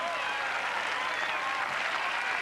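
Tennis crowd applauding steadily at a 1996 Boetsch versus Edberg match, a dense, sustained wash of clapping filling the whole stretch without pause.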